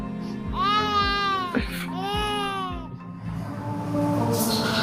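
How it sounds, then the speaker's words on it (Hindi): A baby cries in two wailing bursts with a short gasp between, fairly close, over a low background hum. "बच्चे की रोने की आवाज"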